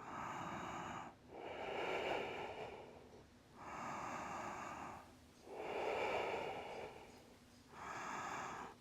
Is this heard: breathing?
yes